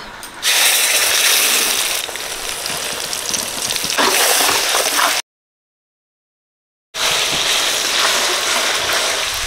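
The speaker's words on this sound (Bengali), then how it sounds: "পেঁয়াজ, আদা, রসুন বাটা দিয়ে দিচ্ছি।" Onion, ginger and garlic paste is added to hot oil left from frying potatoes, bringing a loud, close, steady sizzling hiss that continues, with a silent gap partway through.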